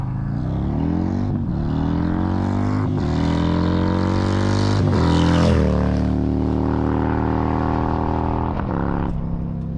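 A 2024 Harley-Davidson CVO Road Glide ST accelerates hard through several gears, its loud engine note rising in pitch and dropping sharply at each shift, with steady wind roar underneath.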